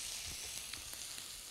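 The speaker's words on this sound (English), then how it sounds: "While I'm stir frying this, I'm gonna also use a tiny bit of chopped mint," Wonton chip salsa ingredients stir frying in a wok, with chopped mint and sugar added, give off a steady close sizzle and crackle, with a few brief scraping stirs and no talk.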